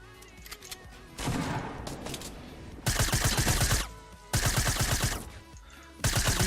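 Rapid bursts of submachine gun fire from the Fortnite battle royale video game come in three or four loud, closely spaced volleys separated by brief quieter gaps.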